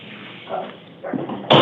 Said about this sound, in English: Did he bark?